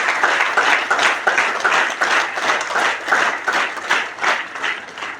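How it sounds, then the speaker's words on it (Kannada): An audience claps loudly in sustained applause honouring teachers at a talk, a dense rhythmic patter of many hands filling the room throughout without pause. "ಆ ಕಲಿಸುವವರಿಗಾಗಿ ಒಂದು ಸರಿ ಜೋರಾಗಿ ಚಪ್ಪಾಳೆ ತಟ್ಟಿ"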